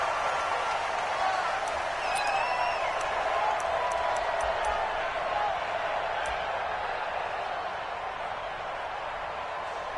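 Stadium crowd noise from a Titans versus Bears video game football match on PS4, a steady distant roar of cheering and murmur with faint whoops, holding level throughout with no clear voice over it.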